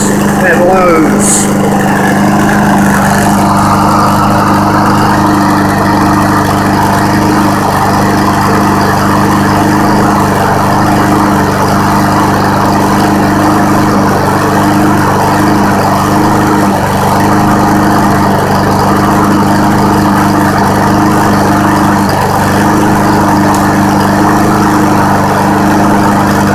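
A push mower's small engine, just cold started, runs at a steady, loud, droning idle close by for the whole stretch. A voice talks over the engine noise.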